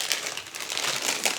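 A packet of Sour Patch candy crinkled and torn open close by, a short burst of dense plastic rustling and crackling with no talk.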